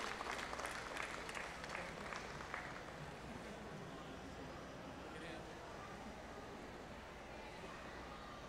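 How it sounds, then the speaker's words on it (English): An audience at a county fair awards ceremony gives a round of applause, faint and distant, a dense patter of clapping that swells early and then settles into a steady wash. "Give them all a round of applause."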